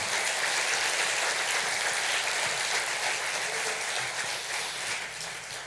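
A church congregation applauds, producing a dense, steady wash of clapping that fills the space for several seconds before easing slightly at the end, with no talking over it.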